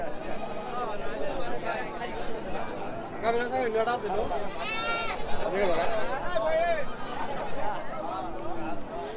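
Goats bleat repeatedly at a large goat market in Gazipur Bazar, Melandaha, Jamalpur, Bangladesh, some loud and nearby, amid a busy crowd of people talking and chattering in the background.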